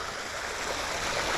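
A small creek flows steadily in a soft, continuous babble and trickle, close by and alone, with no voices.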